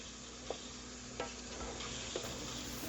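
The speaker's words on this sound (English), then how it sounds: "just every now and then go by and give it a good stir" Jalapeños for candying being stirred in a pot on the stove, with a soft steady simmering hiss and a few light scraping knocks from the spoon spaced about a second apart.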